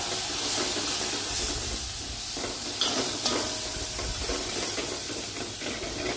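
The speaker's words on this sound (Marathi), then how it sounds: "आपण हा कांदा खोबऱ्याचं वाटण आहे ना, ते चांगलं तेलात परतवून घेऊ" Onion and grated coconut paste sautéing in hot oil for a spicy mutton masala, giving a steady close sizzle and hiss with soft stirring scrapes throughout.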